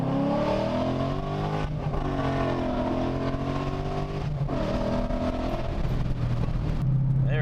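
A 2013 Mustang GT with the 5.0 V8 running on E85 accelerates hard, its loud engine note climbing steadily through the gears with brief shift dips, sustained and close throughout.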